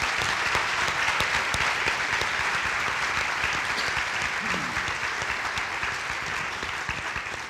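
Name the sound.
audience applause for the panel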